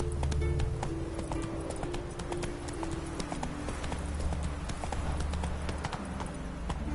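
Horse hooves clip-clop at a steady gallop in The Witcher 3 video game, a continuous rhythmic drumming over ambient game sound and a low background tone, with a faint voice briefly present.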